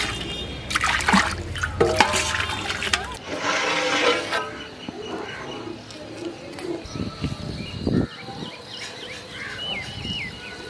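Water is poured onto basmati rice in a large pot while cooking chicken biryani for 40 people: a steady, splashing pour at the start that gives way to softer trickles and drips over background kitchen noise.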